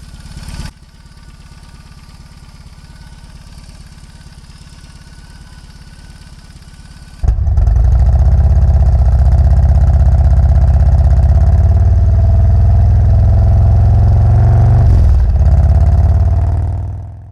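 A motorcycle, a rider's touring scoot headed out on an autumn ride in Massachusetts, sits at a quiet low rumble, then at about seven seconds roars up loud and close into a steady heavy engine drone that holds until the end.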